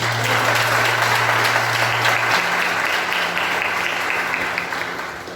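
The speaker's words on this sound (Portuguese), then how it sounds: "Vamos aplaudir Jesus." Church congregation breaking into applause during a Portuguese-language sermon, a thick wash of clapping over a held organ or keyboard chord, fading toward the end.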